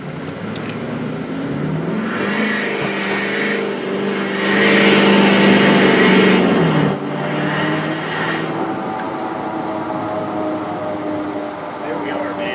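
A Duramax diesel-converted H2 Hummer accelerates from 0 to 60, its engine drone rising in pitch through the gears with a louder surge midway, heard from inside the cabin while a person talks.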